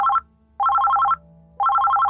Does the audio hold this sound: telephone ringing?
yes